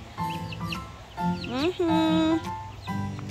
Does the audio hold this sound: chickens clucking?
yes